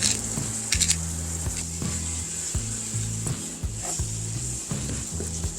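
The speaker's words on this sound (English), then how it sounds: "you want to keep stirring that and cooking it until all the meat is cooked through and the onions are translucent" Ground meat and onions sizzle in a pan for a ranch hamburger and potato casserole, with a steady close frying hiss and repeated scraping knocks of a spoon stirring through the mixture, no talking.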